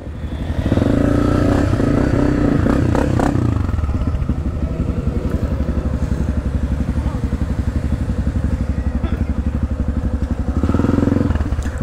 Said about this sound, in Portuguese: Olha o tanto de moto fazendo aqui pra trilha ali, ó.